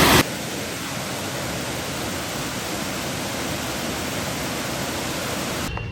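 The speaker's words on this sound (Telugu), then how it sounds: "ఇదేనండి అల్లేరి వాటర్ ఫాల్ అంటే" A waterfall near Coorg, on the road toward Kushalnagar, gives a dense, unbroken roar of falling water that stays steady and loud from start to finish.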